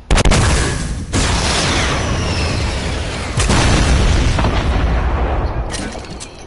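A guided missile explodes in a video game with a loud, close, heavy boom, followed by a sustained roaring rumble and a few further blasts over several seconds.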